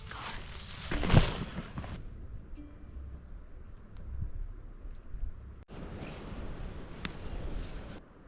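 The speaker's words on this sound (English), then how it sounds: "This wind is awful" Gusty wind rushes through northern Maine woods during a deer hunt, a broad steady roar with stronger buffets hitting the microphone, rising and falling throughout.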